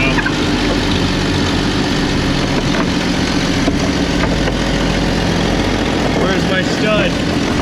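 A 1994 Jeep XJ 4.0 4x4 engine idles loud and close, its steady rumble wavering as the revs hunt up and down, with a person talking over it.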